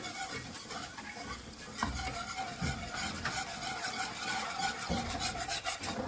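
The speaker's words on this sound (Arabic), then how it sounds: "هفضل اقلب على طول عشان خاطر ما يكلكحش مني" A spoon scrapes and stirs thick béchamel sauce in a pan in a steady, continuous rasping rhythm, close and fairly loud, with a few sharper knocks against the pan and no talking.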